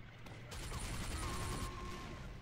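A minigun spins up and fires in Team Fortress 2, a dense continuous roar of rapid shots lasting over a second, loud and close, with a whirring mechanical whine under it and no talk on top.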